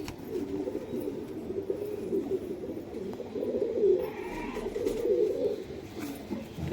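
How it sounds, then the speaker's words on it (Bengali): A male Pakistani golden high-flyer pigeon coos close by in low, throaty, rolling phrases that swell and fade over several seconds, with no voices present. "নর পায়রা, গোল্ডেন পায়রা পাকিস্তানি।"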